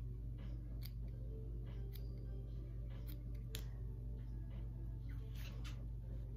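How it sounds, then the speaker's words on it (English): Hair being snipped with handheld shears during a short haircut, soft intermittent clicks and crisp cuts scattered across a steady low background hum, close and fairly quiet, no talking. "I'm gonna kind of go from this little corner over to where I've already cut with my little handy dandy shears."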